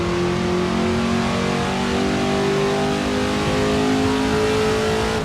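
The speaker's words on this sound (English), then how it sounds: "it's still able to spin the tires in these higher gears" A big truck engine pulls hard in a high gear with tires spinning, a continuous loud drone whose pitch climbs slowly over several seconds, heard close with no talking.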